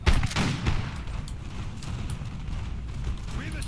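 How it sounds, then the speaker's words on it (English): Napoleonic artillery booms in a Total War battle at Ulm, with a couple of heavy thuds up front fading into a low, continuous distant rumble of gunfire and battle noise. "And now we have the artillery firing down"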